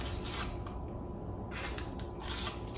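A blade cuts into shaped bread dough before baking, giving a few soft, close rubbing and scraping strokes over a steady background hiss.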